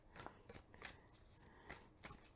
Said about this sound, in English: Okay, hand-to-hand shuffling.